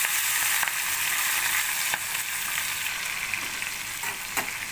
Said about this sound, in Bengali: কড়াইতে তেল চাপিয়ে ফোড়নের মশলাগুলো সব দিয়ে দিলাম দিয়ে ভাজতে থাকলাম এবার টমেটো কাঁচা লঙ্কা দিয়ে দিলাম